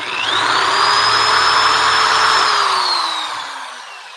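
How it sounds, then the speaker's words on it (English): A power drill whines steadily for about four seconds as it bores out and enlarges an existing hole while building a portable stand-up workstation, close and loud, its pitch easing down as it winds off at the end. "I am literally trying to make the hole bigger by drilling it"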